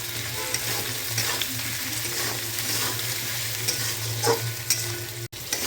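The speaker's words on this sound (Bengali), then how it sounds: "এবার ভালো করে এটাকে আমি ভাজা ভাজা করে নেব" Ginger-garlic paste fries in a pan with a continuous sizzle, broken by occasional scraping stirs; no one speaks.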